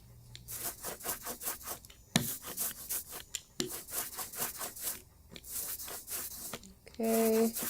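Sticky ink is rolled across a styrofoam print, giving a close, rhythmic series of tacky rasping strokes with brief pauses, ending in a short tonal squeak.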